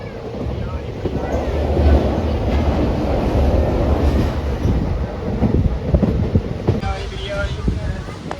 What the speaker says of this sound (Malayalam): ട്രെയിൻ നല്ല സ്ലോ ആയിട്ട് പോകുന്നത്